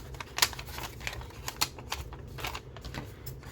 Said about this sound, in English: Open it up and cut our flaps off.